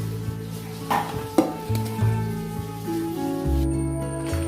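Jaggery syrup boiling in an uruli while sharkkara varatti is made for an Onam sadya: a soft, steady bubbling and sizzling, close by, with light stirring scrapes and a few sharp clinks against the pot.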